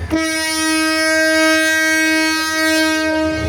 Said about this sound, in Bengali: তখন হুইসেল মারছে রে